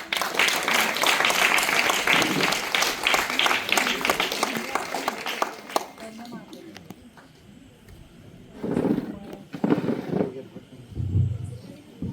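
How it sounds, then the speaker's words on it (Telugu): A small group claps and cheers at a 48th birthday cake cutting, dense applause for about five seconds that then fades out, followed by scattered voices and background noise. "చప్పట్లు."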